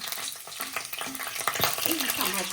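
Garlic sizzles and fries in hot oil in a pan as the base for a home-style Marathi fish curry, a loud continuous crackle with stirring scrapes close up.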